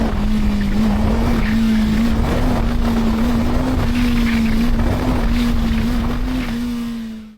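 A CFMOTO 500SR motorcycle engine runs close and loud in low gear, holding a steady, even drone throughout with no clear rise or fall in pitch, alone without talk.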